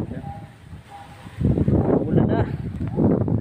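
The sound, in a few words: strong wind during Typhoon Lando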